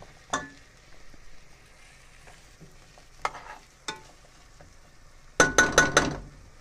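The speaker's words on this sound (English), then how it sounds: "while this is sauteing for about 3 minutes" Curried coconut chunks sauté in a pot with a soft frying sizzle, broken by a few sharp utensil knocks and a quick burst of clinking and scraping near the end.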